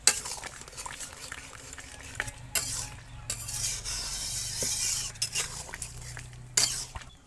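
A spoon stirs beaten eggs into a cauliflower and potato curry in a hot pan, with scraping and clinking against the metal over a soft sizzle, in uneven bursts.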